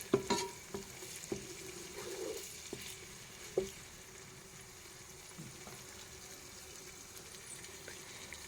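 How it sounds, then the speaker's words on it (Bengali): Onion paste and other khichuri ingredients frying in a pan give a faint, low sizzle while a spoon stirs and scrapes, with a few clinks early on and quieter cooking afterward. "ভেজে নিচ্ছি"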